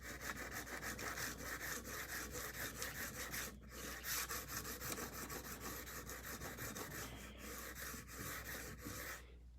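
A stainless kitchen knife with a neglected edge is sharpened with steady, continuous rasping strokes, close and loud, with no pauses or speech.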